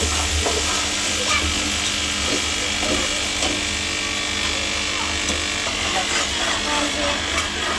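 Chickpea curry with onion and garlic stirred and mixed in a frying pan, with steady sizzling and scraping, and a voice talks over the cooking.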